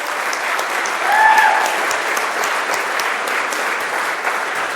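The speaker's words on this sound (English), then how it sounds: "let's round of applause for Javier." Sustained, dense audience applause for a presenter at a Substance Day 2018 master class event. Loud, steady clapping fills the whole stretch and swells slightly in the middle.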